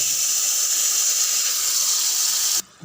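Tamarind water pours steadily into a pan with a continuous rushing hiss, close and fairly loud, then stops abruptly near the end.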